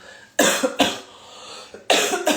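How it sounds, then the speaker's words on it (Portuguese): Several harsh coughs close to the microphone from someone recovering from an illness, two quick ones, a short pause, then two more. "Vai rolar uma tosse de vez em quando aí"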